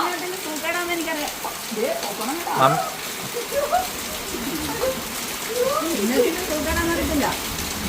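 Steady rain falls, a broadband hiss throughout, while people talk over it continuously.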